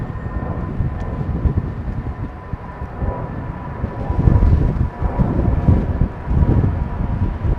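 A BEA airliner departs London Heathrow Airport, heard as a broad, steady engine roar from some distance with wind rumble, swelling slightly midway and carrying on without speech.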